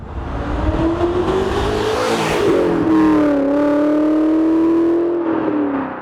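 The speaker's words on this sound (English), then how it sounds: "It absolutely wails, this thing." A naturally aspirated E39 BMW M5 engine revs hard and wails at high pitch, rising, dipping and climbing again, loud and sustained.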